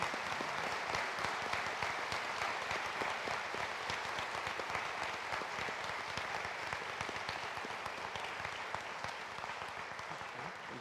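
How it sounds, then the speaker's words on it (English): Ceremony audience at a health sciences white coat and pinning event breaking into sustained applause, dense steady clapping throughout, fairly faint and distant with a slight fade. "when we give you applause"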